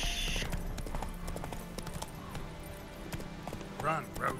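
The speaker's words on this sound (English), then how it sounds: "Run, Roach" A horse gallops in The Witcher 3 with brisk, rhythmic hoof clip-clops close by. A short whinny comes near the end, and a voice speaks over the hoofbeats.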